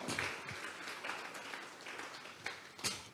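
A church congregation at a Sunday service claps in a steady, dense patter of applause, heard faintly from a distance, with a few sharper claps standing out near the end.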